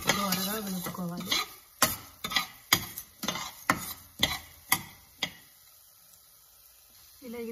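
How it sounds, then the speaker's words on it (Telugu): Cumin seeds dry roasting in a pan over a low flame, with a spoon scraping and clinking against the metal about ten times in sharp, evenly spaced strokes. A voice talks briefly at the start and again at the end. "ఒక స్పూను జీలకర్ర వేసుకొని వేపుకోవాలి."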